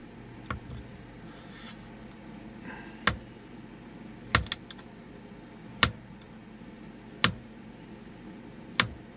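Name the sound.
knife cutting a hard-boiled egg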